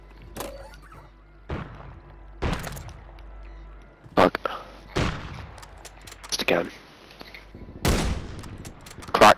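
Gunfire in a Call of Duty match: scattered sharp bursts and single shots, some loud and close, others fainter, arriving irregularly with pauses between, while voices talk intermittently.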